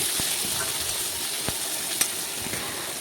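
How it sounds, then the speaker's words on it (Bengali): Chopped tomato and onion fry in a pan with a steady, close sizzle, broken by a few sharp scrapes and taps as they are stirred. "টমেটো কিন্তু নাড়াচাড়া করে পেঁয়াজের সাথে একটু ভেজে নিচ্ছি"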